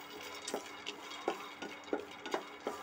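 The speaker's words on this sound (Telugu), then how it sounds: "ఇప్పుడు పల్లీలు వేయించుతున్నాను." Peanuts being dry-roasted in a pan are stirred, giving a soft scraping rattle with regular scoops of a spoon against the pan roughly every half second, quiet and close.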